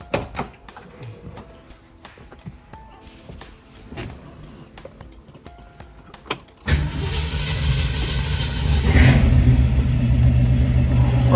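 A 1966 Ford Mustang starts after a transmission fluid service: small clicks and handling noises, then the engine catches and settles into a loud, rough, steady idle close by that grows slightly louder.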